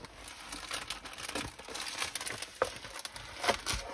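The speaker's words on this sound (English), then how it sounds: "These ones are well open because these are in plastic bags." Plastic bags holding craft kits crinkle and rustle up close in uneven bursts, with a few sharper crackles, and no one speaks.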